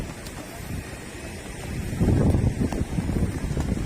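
Strong southerly wind blows across a beach on the south coast of Yogyakarta, a continuous low roaring buffet on the microphone that swells into heavier gusts about halfway through, with no voices.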